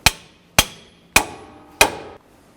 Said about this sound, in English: I'm going to go ahead and use our pickle fork and a hammer to separate the lower.